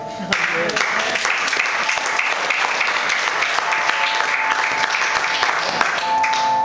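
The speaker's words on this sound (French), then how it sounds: "Acclamons le Seigneur" A church congregation applauds, steady, dense clapping from many hands continuing throughout, fairly loud with a faint voice beneath it.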